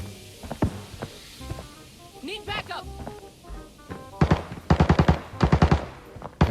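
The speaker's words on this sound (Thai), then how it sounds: "มีเสียงปืนอยู่เลยครับ" Rapid bursts of gunfire in Arena Breakout crack out near the end, preceded by scattered single shots and clicks, loud and close.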